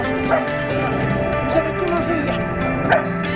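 A dog in a Paris park gives a few yips and whimpers under ongoing French conversation, mixed with other outdoor background noise.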